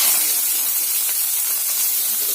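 Mustard seeds and onion sizzle and splutter in hot oil in a pan, the first step of a jackfruit seed thoran: a steady, close, bright hiss with faint crackles running throughout, with no talk.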